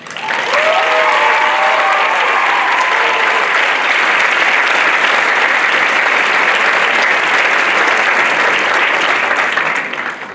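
An audience at a grade 5 completion ceremony bursts into loud, sustained applause, a dense wall of clapping that holds steady for about ten seconds with faint cheers early on.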